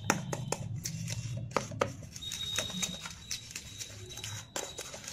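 Homemade face scrub mixed by hand in a bowl, giving a steady run of soft, wet patting and scraping taps at close range, with no talk.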